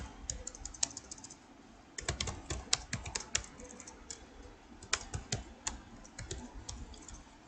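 Java code is typed on a computer keyboard in quick, irregular bursts of close clicking keystrokes, with brief pauses between runs.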